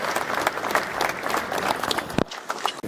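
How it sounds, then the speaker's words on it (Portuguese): A crowd at a business association evening event applauds, dense energetic clapping throughout, fairly loud and close, with a brief sharp break near the end. "E eu peço uma salva de palmas."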